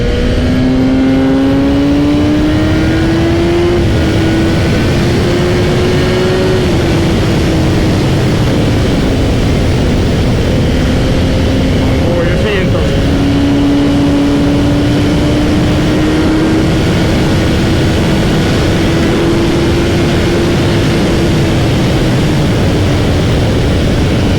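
A tuned BMW S1000R motorcycle accelerates hard, its loud engine howl rising and dropping through several quick-shifter upshifts over a constant roar of wind and road noise, with no speech.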